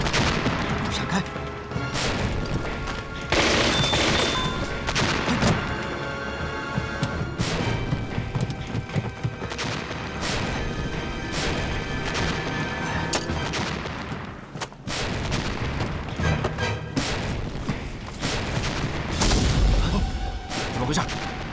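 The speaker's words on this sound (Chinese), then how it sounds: "爆炸声很大，好像是船头方向。" Loud battle sounds from a war drama set at a harbour ship: repeated explosion bursts and gunfire crashes filling the whole stretch, dense and continuous with sharp impacts, with shouting voices mixed in.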